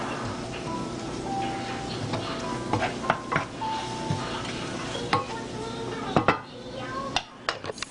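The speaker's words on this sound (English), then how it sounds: "Stir it all together, let that saute for a minute." Chicken curry seasoned with cumin sautéing in a pan, a steady close sizzle broken by repeated utensil scrapes and clinks as it is stirred, with faint background sounds throughout.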